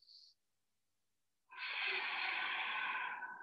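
A long, steady breath drawn during a yoga standing posture, a soft broad rush lasting about two seconds after a brief faint hiss and a pause, close and alone.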